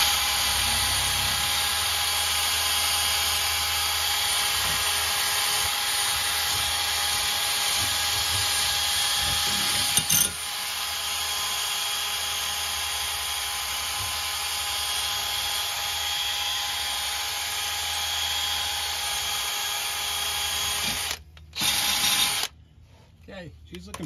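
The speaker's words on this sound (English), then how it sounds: "so I'm just going to sand this out." A rotary tool sanding out the inside of a muffler exhaust pipe on a 2009 Ford Escape gives a steady, high-pitched whine for most of the clip, then cuts in and out near the end, with someone talking over it.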